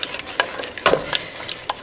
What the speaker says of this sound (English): I'm going to bring it to a boil while I stir it constantly